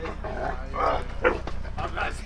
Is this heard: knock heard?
no